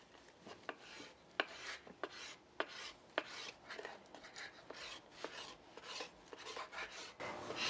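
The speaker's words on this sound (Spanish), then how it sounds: "Dale, Brenda, tráete la tabla, vamos a picar." A knife taps and scrapes against a cutting board in irregular, quick strokes while chopping chorizo and bacon, close and fairly quiet, with no talking.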